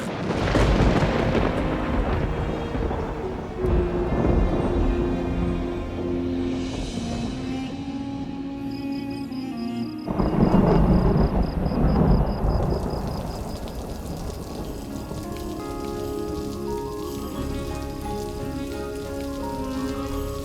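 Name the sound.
thunderstorm with heavy rain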